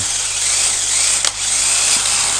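A DeWALT heavy-duty cordless drill bores a 10 mm hole into hardwood, its steady high-pitched whine running loud and close throughout, with a brief dip in pitch midway as the bit bites.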